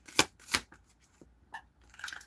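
A deck of tarot cards is shuffled in a few quick, crisp riffling bursts with brief pauses between them, close and fairly loud.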